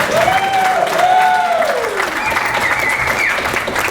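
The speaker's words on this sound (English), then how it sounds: "Clap your goddamn hands." A crowd claps steadily and loudly throughout, with some cheering mixed into the applause.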